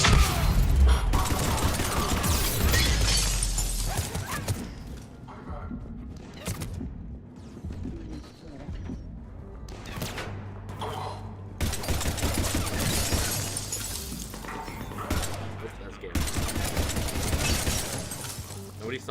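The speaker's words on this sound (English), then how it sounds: "I didn't shoot Garrus." Mass Effect 3 combat roars with dense, loud gunfire and crashing impacts in long sustained stretches, broken by a quieter lull. Voices are heard over the action.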